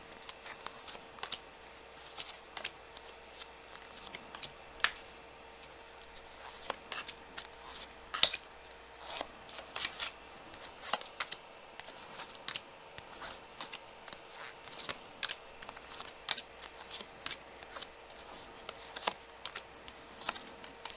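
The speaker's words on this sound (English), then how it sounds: "Let me get the cards on the table." Tarot cards are shuffled and laid onto a table, a quiet, close series of irregular soft taps, flicks and clicks with no voices.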